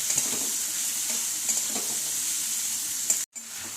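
Five or six onions sautéing in a pan with turmeric, giving a steady close sizzle with occasional stirring scrapes, briefly cut off near the end.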